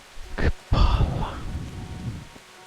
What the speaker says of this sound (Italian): ma sta sempre a piovere in sto cazzo di posto?